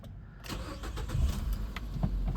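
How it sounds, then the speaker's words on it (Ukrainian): A 2013 Nissan Qashqai +2 with about 134,000 km starts up and settles into a steady idle, the engine catching after a brief quiet moment and then running with a low, even rumble close by. "Двигунчик працює чудово."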